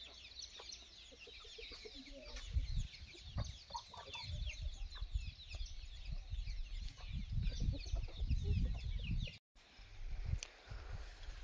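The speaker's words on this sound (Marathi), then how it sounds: "बऱ्याच काही कोंबड्या अशा आपल्या बापूकडे विक्रीसाठी आहेत" Village chickens kept for sale at a rural livestock market cluck and chatter repeatedly at close range, with overlapping bursts and low rustling in a lively outdoor yard, and only faint voices in the background.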